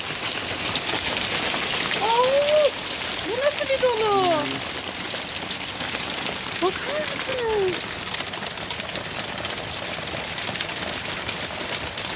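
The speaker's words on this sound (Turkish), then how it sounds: "Belli ki bu akşam pıtı pıtı yağmur sesinde romantik takılacağız Güngör." Steady rain patters down on a tree in a village garden, a dense even hiss with a pigeon or dove cooing faintly a few times in the middle.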